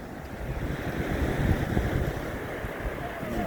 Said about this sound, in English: Oh, there are some waves though.